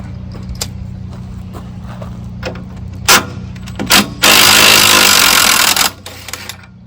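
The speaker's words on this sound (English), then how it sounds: "We're down now to where we'll take the clamps off the differential," Work on the rear axle of a Dodge D100 pickup to remove the differential U-bolt clamps brings sharp metallic clicks and clanks, then a loud burst of a power impact wrench that runs for nearly two seconds before stopping.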